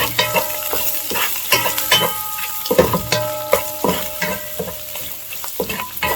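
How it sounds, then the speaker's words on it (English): Hot dog fried rice frying in coconut oil, sizzling steadily while a utensil stirs and scrapes the pan in repeated irregular strokes, close and fairly loud, with no talking. "Stir it up."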